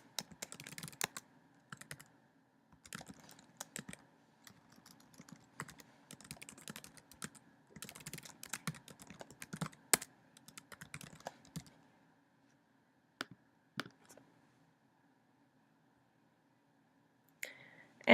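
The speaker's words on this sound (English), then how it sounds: "I'm going to type in my information." Typing on a computer keyboard while signing up for an online account, close and quiet, with bursts of rapid key clicks for about twelve seconds, then a few isolated keystrokes after a pause.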